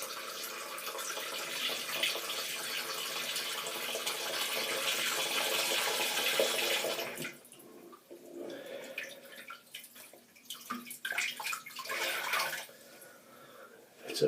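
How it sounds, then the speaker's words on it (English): A tap running water into a shaving bowl, a steady broadband splashing stream for about seven seconds, then stopping and leaving quieter intermittent drips and small water sounds. "I do need to run a drop of water into the bowl."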